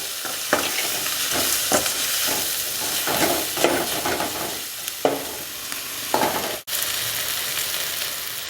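Steady loud sizzling of spices frying in a pan for a broad bean and coconut kara kulambu, with repeated scraping strokes of a spoon stirring through them.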